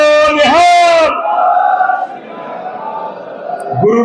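A crowd at a Punjabi political gathering answers a Sikh jaikara battle cry: one voice shouts out, then many voices roar back together in a sustained, loud collective cheer before another shout starts.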